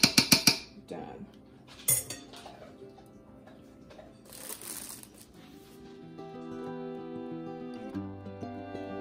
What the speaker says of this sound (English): we're just going to put the lid on it and let it cook on low until it is all done